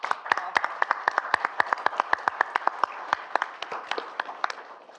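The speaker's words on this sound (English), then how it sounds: "applause for that." A small meeting audience applauding, a modest run of distinct individual hand claps at a brisk irregular pace, moderately near and fading slightly toward the end.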